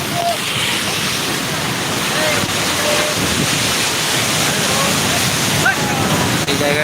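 Sea waves at Digha beach on a cloudy day pour in as a continuous broad roar, mixed with wind buffeting the microphone.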